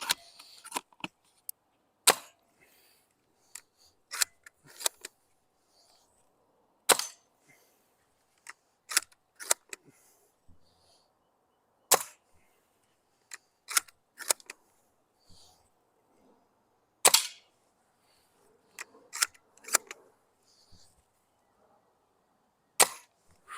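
Sharp single reports from an airsoft sniper rifle fired at targets, each a crisp snap or crack with occasional faint impact clicks, repeated at irregular intervals against near silence and without any talking.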